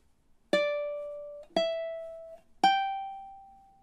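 Measure 22 of a fast-picking ukulele melody: three clean plucked notes about a second apart, each ringing and slowly decaying, close and clear with no voice.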